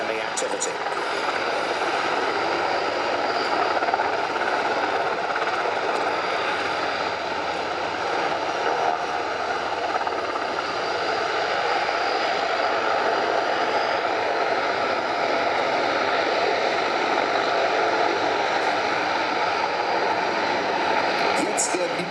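Military transport aircraft and combat helicopters at an airfield during an evacuation demonstration produce a loud, steady engine and rotor roar that fills the whole stretch, with a voice talking over it.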